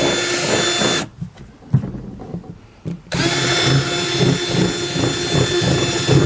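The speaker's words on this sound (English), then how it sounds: "I'm going to start off with a kind of a small bit just to kind of give me a little pilot" A power drill fitted with a small bit bores a pilot hole through the bottom of a TW200 rear rack box, whining loudly and steadily close by, stopping for about two seconds of quieter handling noise before whirring again.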